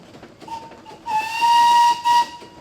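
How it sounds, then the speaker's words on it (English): A shrill peanut whistle on a steam tractor at a steam show blows twice, a long steady blast then a shorter one, preceded by a faint hissing tone. "What's that peanut whistle sound like?"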